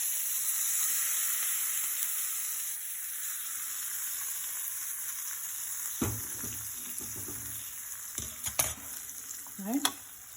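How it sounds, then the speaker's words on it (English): A tempering of curry leaves and hing sizzles in peanut chutney with a steady hiss of hot oil, followed by a few sharp clinks and scrapes as it is stirred in. "So I'm going to add this tempering in this chutney."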